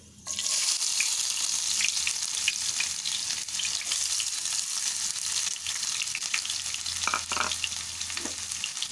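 Onions and curry leaves hit hot oil in a pan, setting off a loud, steady sizzle that runs unbroken throughout, with a few brief clinks of stirring near the end.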